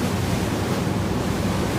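Boat wake water splashing and rushing on a city canal in Bangkok, a steady loud wash of churning water with wind noise and no talk.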